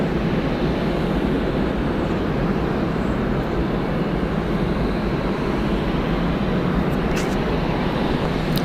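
A jet taking off at Atlanta Hartsfield-Jackson airport, a loud, constant broadband engine roar that holds steady throughout, heard from nearby without voices.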